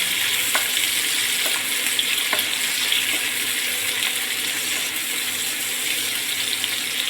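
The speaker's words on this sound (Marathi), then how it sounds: "कांदा आणि कढीपत्ता आहे त्याच्यामध्ये व्यवस्थित फ्राय करून घेऊया" Onion and curry leaves fry in a pan with a steady, dense hiss that stays even throughout, broken by a few faint clicks and no voices.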